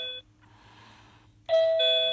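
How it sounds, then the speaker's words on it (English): An electronic doorbell tone from a SmartLab Smart Circuits kit: a short synthesized chime, then a brief quieter gap, then a brighter, louder electronic ding tone, close and clear with no talking. "And this could make a good electronic doorbell on this setting."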